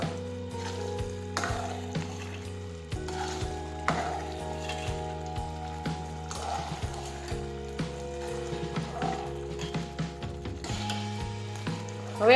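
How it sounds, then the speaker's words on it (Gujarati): Drumsticks and flour curry being stirred in a pan, a steady sizzling fry with scraping and clinking of the spoon against the pan throughout, close and fairly loud, with no voices. "આ રીતે આપણે ફેરવતા જશું."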